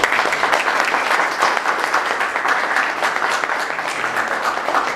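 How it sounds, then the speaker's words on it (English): An audience gives a round of applause for the speakers at a minority civic engagement event, dense and loud clapping that continues evenly for several seconds with no talk over it. "please give another round of applause for"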